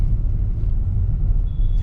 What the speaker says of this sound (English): Driving the Venue IMT.